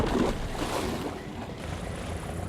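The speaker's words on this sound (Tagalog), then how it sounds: "Malakas ang hampas ng alon dahil sa hindi magandang panahon" Water sloshes and slaps steadily against a small raft's hull in bad weather, with a constant wash of wind and rough water around it.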